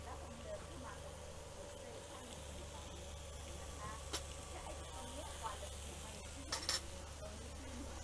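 Shiitake mushrooms sizzle softly as they are stir-fried in a pan, with a steady low hiss, faint hum underneath and a few sharp clinks of utensils against the pan.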